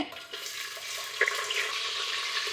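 A single onion goes into a hot pan while cooking a quick rice dish, giving a steady close sizzle and hiss throughout with a small splattering pop partway through.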